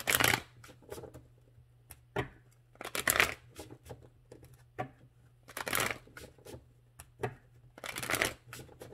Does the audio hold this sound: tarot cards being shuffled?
yes